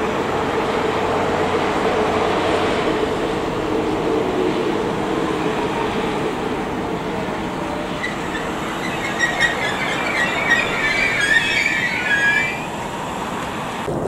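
A train rumbles steadily past at close range at a railway station in Örnsköldsvik, Sweden, with rattling wheels and a high metallic squeal rising briefly toward the end.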